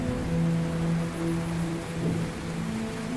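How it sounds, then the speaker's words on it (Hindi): Cartoon rain falls in a forest as a dense, steady wash of noise, mixed with low sustained musical tones and no voices. "सारे बारिश के रुकने का इंतजार कर रहे थे।"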